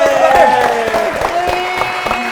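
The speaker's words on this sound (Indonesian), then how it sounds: "Oke, tepuk tangan dulu" Studio audience claps scattered and unevenly during a religious quiz show, the hand claps fairly sparse and sitting under a sustained tonal voice or musical note.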